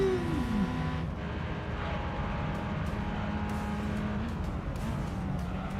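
A Chevrolet 5.8 litre V8 race car engine, 480 horsepower, in the video game Gran Turismo 3, drones steadily at mid distance, its pitch rising and falling slightly as the car runs.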